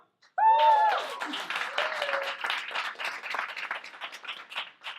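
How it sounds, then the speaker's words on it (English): An audience breaks into sustained applause and clapping that continues for several seconds, with a brief voice heard just as it starts. "Big applause to Testlio."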